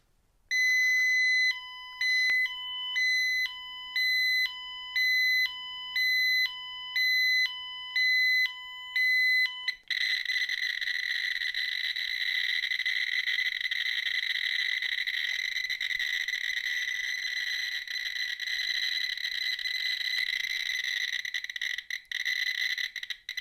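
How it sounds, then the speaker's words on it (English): Radiation detector reacting to a piece of pure uranium metal: a few seconds of stepped electronic beeps give way to a continuous loud, buzzing high-pitched tone held steadily to the end. "I am going to test it with scintillation detectors because I think it will respond because it's pure uranium metal here."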